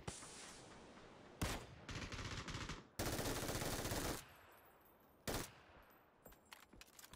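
Gunfire in the video game PUBG: several loud bursts of rapid automatic fire separated by short gaps, followed by a few single sharp shots, with no voices over it.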